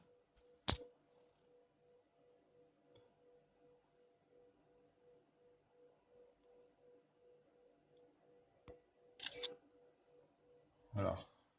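A phone camera app fires a single short shutter click while taking a photo, followed later by a couple of faint handling taps and rustles near the end, against a quiet room background.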